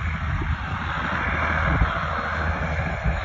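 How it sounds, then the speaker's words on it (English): A helicopter flies overhead at an abandoned CITGO site in Joliet, its engine a steady loud rumble and whine with wind buffeting the microphone throughout. "I wanted to get this helicopter real quick"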